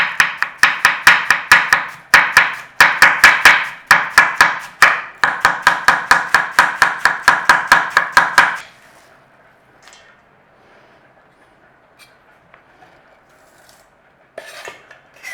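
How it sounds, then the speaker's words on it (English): A knife thinly slicing cabbage on a cutting board, with rapid, steady rhythmic chops for about eight seconds, close and loud, then a quiet kitchen with a few faint knocks. "We want thin sliced cabbage,"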